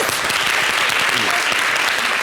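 Steady, close applause from a studio audience on a television quiz segment, a thick wash of clapping with faint voices underneath.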